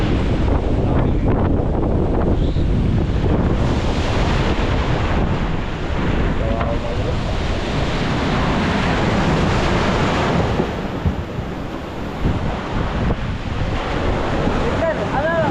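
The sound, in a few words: ocean waves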